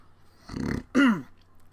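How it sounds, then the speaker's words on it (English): A brief throat clearing, a short rough rasp followed by a louder, voiced guttural burst, close to the microphone and alone, lasting under a second. "I'm sorry, I had to clear my throat."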